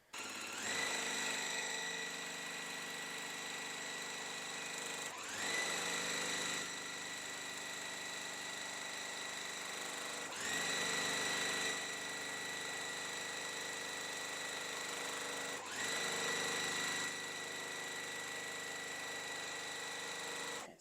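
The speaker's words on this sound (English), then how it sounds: "What I'm gonna do is just sew a 1/4 inch away from here and a 1/4 inch away from here." Sewing machine stitching quilt block pieces a quarter inch from a drawn line, four steady runs of motor whirring, each a few seconds long, separated by brief pauses, close and alone.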